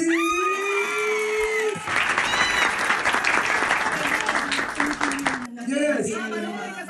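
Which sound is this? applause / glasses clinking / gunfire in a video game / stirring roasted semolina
applause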